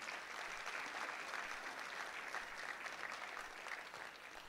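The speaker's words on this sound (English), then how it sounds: "Can we give them a round of applause," Audience applause at a local heroes awards evening, a steady wash of clapping from many hands that holds evenly throughout without letting up, fairly distant and soft.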